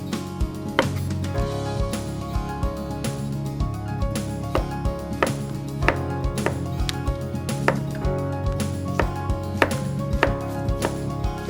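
A knife slices zucchini on a cutting board in a quick, regular series of sharp, close chops with a few irregular pauses and no talking.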